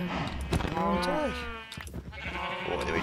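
Sheep bleating in Minecraft: a few loud, wavering bleats close by, with a shorter bleat later and other game sounds around them.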